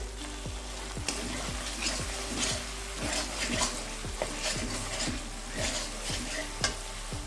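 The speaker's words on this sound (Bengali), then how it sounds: "আদা রসুন বাটাটাও একটু ভেজে নিয়ে এখানে আমি দিয়ে দিচ্ছি জিরে গুঁড়ো হাফ চামচ" Ginger garlic paste and cumin powder fry in a pan for a potato curry, a steady close sizzle broken by rhythmic spatula scrapes and stirs about twice a second, with no one speaking.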